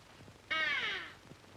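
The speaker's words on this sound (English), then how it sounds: "A raven cawed in the cold wind." A single harsh, drawn-out raven caw rings out clearly and close, fading over about half a second above faint background noise.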